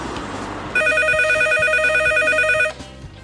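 Telephone ringing with a steady electronic trill that sounds for about two seconds, loud and close over a low background hum.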